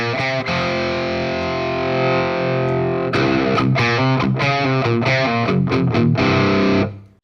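An electric guitar played through an SD1 overdrive pedal into a clean amp gives thin, mildly distorted tones. Sustained notes ring alone and up close, then a run of choppy, rhythmic picked chords follows before a quick fade.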